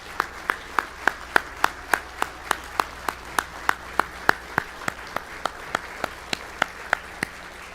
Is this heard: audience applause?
yes